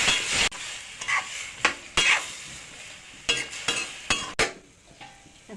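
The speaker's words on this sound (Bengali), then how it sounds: "ভালো করে নাড়ি চাড়িয়ে নেব।" Papaya in a pan with water, turmeric and salt gets stirred with a utensil, producing several sharp scrapes and knocks against the pan over a soft simmer, close by and without speech.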